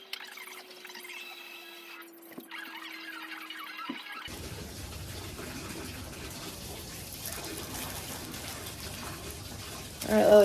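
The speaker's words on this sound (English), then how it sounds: "Alright, Lily, turn the water off." Water runs from a tap in a steady rushing stream that starts partway through and continues alone, growing louder near the end.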